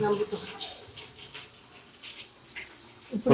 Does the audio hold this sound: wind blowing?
no